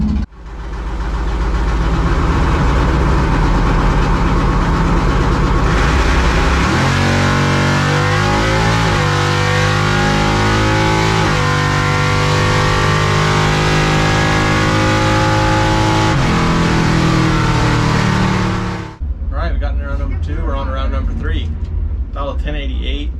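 A drag race car at a drag strip rumbles loudly at idle, then roars as the engine climbs through a sustained launch and run before cutting off abruptly, with voices faintly under it.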